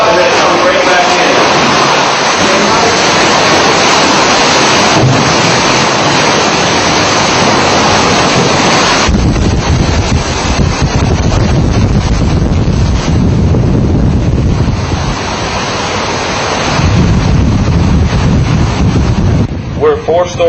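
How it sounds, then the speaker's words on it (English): Hurricane Katrina storm surge floods a hotel lobby, with heavy rushing and churning water and roaring wind buffeting the microphone. The surge pulls out and then surges back in, loud and continuous throughout, with a coarser, deeper wash in the second half. "See the water get sucked out and then it comes right back in."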